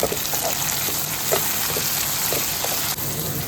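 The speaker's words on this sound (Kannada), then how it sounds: "ಬದನೆಕಾಯಿನ ಸ್ವಲ್ಪ ಎಣ್ಣೆಯಲ್ಲಿ ಬಾಡಿಸಿ" Chopped eggplant frying in oil in a pan, a steady close crackling sizzle with small pops scattered through it, no voices.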